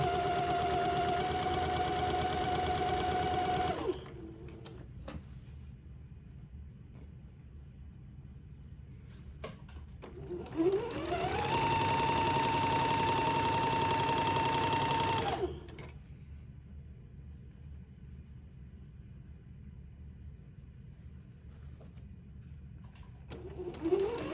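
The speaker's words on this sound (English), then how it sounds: "we can sew fairly close to it and keep our second seam of the French seam as small as possible" Sewing machine stitching the second pass of a French seam on a baby daygown: two steady whirring bursts of about four seconds each, close and even-toned, separated by quiet pauses with faint handling noise and no talk.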